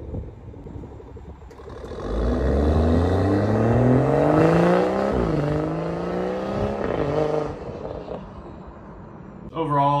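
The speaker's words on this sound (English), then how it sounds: "like the exhaust note sounds really good too" BMW 340i F30 exhaust note while driving, a deep engine tone rising steadily in pitch under acceleration, dipping at a gear change and climbing again, fairly loud and close.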